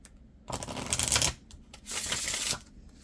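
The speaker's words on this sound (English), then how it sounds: "we are going to pull an oracle card just to see what kind of energy we're dealing with" Oracle cards being shuffled by hand, two quick riffling bursts of papery flutter up close, with a short pause between them and no voice.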